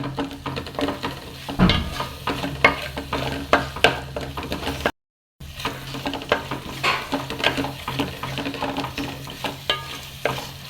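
Goan fish patty mixture with mackerel roasting in a pan, with steady close sizzling and repeated scraping and stirring strokes, broken by a brief silent gap midway.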